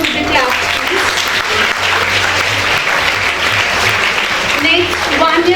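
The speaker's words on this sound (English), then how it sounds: "Audience, continue with the clap, please." Steady applause from an audience fills the whole stretch, dense and sustained clapping with a faint low hum underneath.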